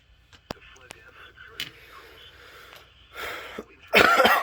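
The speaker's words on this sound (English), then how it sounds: "Still battling that cough" Someone battling a lingering cough coughs close to the mic, with a few sharp isolated bursts followed by a louder, rougher fit at the end, all in a quiet room.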